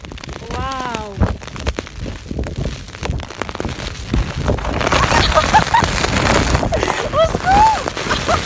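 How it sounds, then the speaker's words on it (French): Heavy thunderstorm rain pouring down outdoors, a broad hissing wash that swells louder partway through, with excited voices talking and exclaiming over it, some whoops and squeals rising above the downpour. "Ah ouais, là il pleut des trombes."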